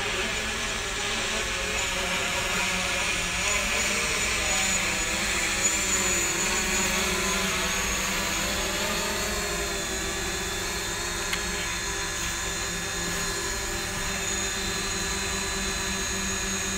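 A DJI Mavic Pro drone hovers during its maiden flight, its steady high-pitched propeller whine droning continuously and fairly loud throughout, with no voices.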